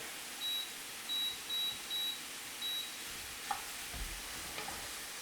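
Two pounds of ground beef fry in a pan on an induction burner as it is chopped up, giving a soft sizzle with faint scraping and a few knocks, while a row of short electronic beeps sounds as the heat is lowered.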